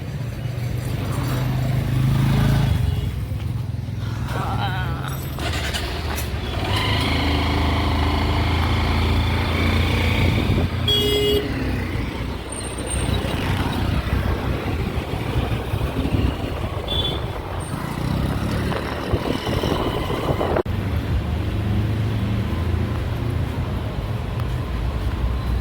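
A motorcycle engine runs steadily and revs as the bike pulls away after a repair, a continuous buzzing drone lasting the whole stretch, with shifting pitch and passing traffic noise around it.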